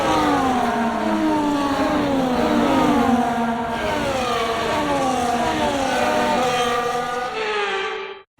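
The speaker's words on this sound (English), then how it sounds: "The formation lap gets underway as the drivers prepare themselves for the first race of a brand new Formula One season." Formula One cars on a formation lap in F1 24 at Bahrain give loud, high-pitched engine whines that rise and fall as they rev and shift, with several engines overlapping, before fading at the end.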